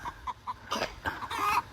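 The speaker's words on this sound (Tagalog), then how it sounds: "yung mga manok namin, Jess, oh." Backyard chickens clucking close by in a short burst of quick repeated clucks, followed by louder squawky calls as birds scuffle.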